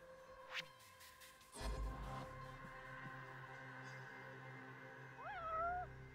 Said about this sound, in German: Das ist keine Taube, sondern eine Katze.